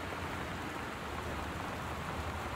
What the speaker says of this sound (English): No, it's the rain.